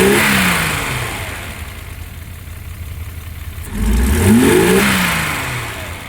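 An inline-six car engine revs loudly, winding down toward idle, then surging again in a strong second rev that eases off, heard close with no talk.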